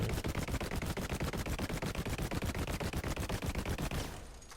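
Rapid, evenly spaced bursts of shield breaks stacking in a Moze build in Borderlands, firing in a dense rattling stream like sustained automatic gunfire for about four seconds before cutting off.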